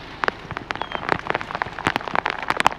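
Heavy rain falls outside a car window on the Isle of Luing, a dense close patter of drops hitting glass and bodywork with sharp irregular splats, loud and continuous, no voices.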